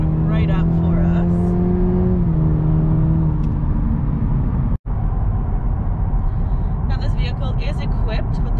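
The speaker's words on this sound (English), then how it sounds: "I'm just going to hit the gas a little bit here and watch it open right up for us." A 2021 Cadillac CT4 Sport accelerating on a test drive, its engine note rising steadily in pitch inside the cabin and then settling into a smooth road hum, with someone talking over it.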